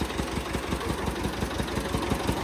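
A tractor engine idles close by, a steady low chugging pulse repeating rapidly and evenly with no other sounds.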